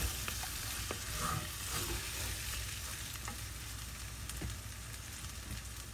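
A jalebi laddu mixture made from softened jalebis with a little ghee is stirred steadily in a pan, with soft continuous scraping and faint sizzling up close and no talk.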